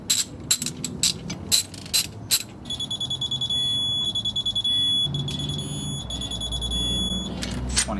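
A ratchet torque wrench tightening bolts on a race truck's rear end setup, giving a series of quick close clicks followed by a steady rapid ratcheting run, with some clatter of tools around it.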